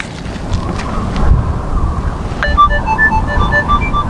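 Gusty wind buffeting an outdoor microphone while metal detecting in Palmyra, a low rumbling roar that swells and fades, followed by faint electronic detector beeps near the end.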